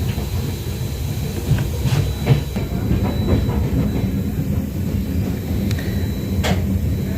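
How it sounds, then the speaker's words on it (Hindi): The Agartala Tejas Rajdhani Express on the Northeast Frontier Railway runs on rails, a steady low rumble of rolling stock with scattered clacks and squeals that stays moderately loud throughout. "Anand Vihar terminal Tripura Tejas Rajdhani express"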